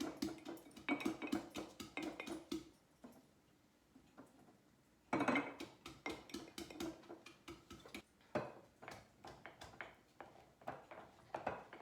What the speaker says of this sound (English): pushing the brine out of the cabbage as I pack it in